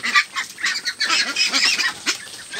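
Farm ducks at their water dishes, a flock giving loud, close, repeated honking quacks in quick overlapping bursts.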